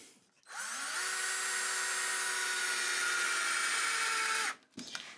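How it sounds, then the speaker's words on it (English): A power drill drives a screw into the neck of a Kay Old Kraftsman single-cutaway archtop guitar, one steady high whine running about four seconds before cutting off sharply, close and loud with no talk. "when we're running this in, we want to make sure our torque setting on the drill is low"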